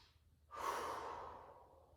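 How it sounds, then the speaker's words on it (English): A single slow, deep breath, soft and close, swelling after a short pause and then easing away in a quiet room during a hip-release movement session. "Big breath in and out."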